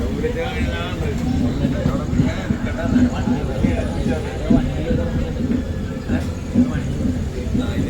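Passenger train on the Ernakulam to Patna Express run, a steady low rumble of carriage and wheel noise with faint rhythmic knocks, heard close from inside with voices talking over it.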